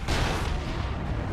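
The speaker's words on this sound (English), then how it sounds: "That's probably almost a sniper shot." A single heavy sniper shot booms in the strategy game Dawn of War 2: Retribution, a loud sharp blast that rolls into a dense rumbling tail of battle noise, with no voices over it.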